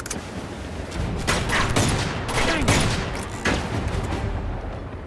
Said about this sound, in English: Someone's shooting at me from side. Oh, pistol.